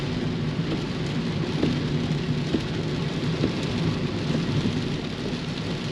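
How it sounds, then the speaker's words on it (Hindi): Very heavy rain pouring steadily during a Delhi cycling ride, a dense unbroken roar of downpour with faint scattered drops and no voices. "ज़बरदस्त बारिश हो रही है, वेरी हेवी रेन."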